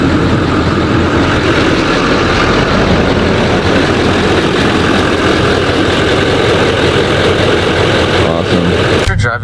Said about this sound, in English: Is it a little bit louder with the windows down and the turbo noise?